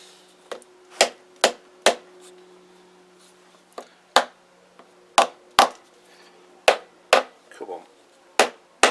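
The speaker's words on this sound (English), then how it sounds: "What do I do with my rubber hammer?" Sharp, separate knocks of a rubber mallet striking a removed Kawasaki GPZ500S motorcycle engine part, struck in uneven bursts of two or three with short pauses, close by.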